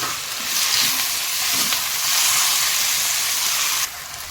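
Curry leaves and chopped capsicum fry in hot oil for a tomato bath masala, a steady close broadband sizzle with faint stirring scrapes, loud throughout and easing slightly near the end.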